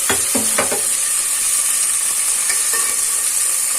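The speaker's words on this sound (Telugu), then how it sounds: "క్యారెట్ ముక్కలు, బీన్స్ ముక్కలు, అది ఫ్రై చేసి" Potato, carrot and bean pieces fry in a pan, a bright continuous sizzle opening with a few quick stirring scrapes and clinks, then settling into an even hiss.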